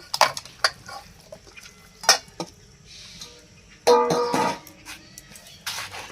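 Freshly ground spice paste for mutton goes into a marinating bowl: scattered sharp utensil clinks, then a short wet scraping pour, close by, with no talking.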